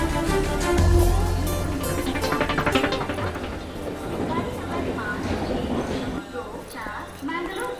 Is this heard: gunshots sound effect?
no